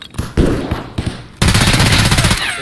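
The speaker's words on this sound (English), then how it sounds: "Oh, that's him with a shotgun." Heavy shotgun fire in Escape from Tarkov as the boss Tagilla attacks, rapid loud blasts starting sparse, then a dense continuous burst of booming shots close by.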